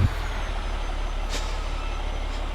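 Steady low truck engine rumble in the video game American Truck Simulator, with a sharp hiss of air brakes releasing partway through, then a fainter second hiss.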